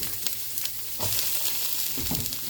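Onions, ginger and garlic frying in a pan, a loud steady sizzle broken by several scraping stirs, close up with no talking.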